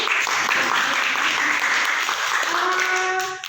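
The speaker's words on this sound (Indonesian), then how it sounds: "Bisa kita berikan aplaus Bapak Ibu." An audience of educators claps in sustained, dense applause at an indoor teacher workshop, a bright even wash of hands close and loud that tapers off at the end.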